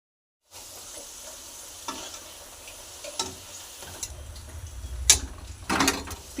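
Pitha frying in hot oil, a steady close sizzle with bubbling that swells in bursts as pieces are turned, with occasional sharper crackles and utensil scrapes; no one speaks.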